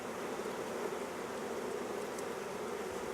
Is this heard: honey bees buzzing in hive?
yes